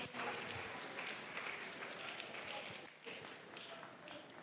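A church congregation claps during a Sunday worship service, a dense, continuous wash of many hands applauding together at moderate distance, briefly dipping before resuming.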